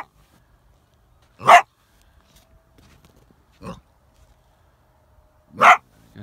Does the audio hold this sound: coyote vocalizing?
yes